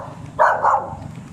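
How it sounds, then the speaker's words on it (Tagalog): An angry dog barks twice in quick succession, fairly close and loud, outdoors beside a large mango tree, with quiet ambient noise before and after. "Galit yung aso."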